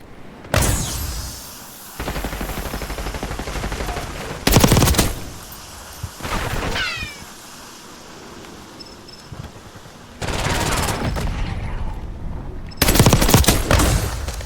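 An AEK-973 rifle fires full-auto in Black Ops 6 in several sustained bursts separated by pauses, loud and close, with brief sharper cracks between.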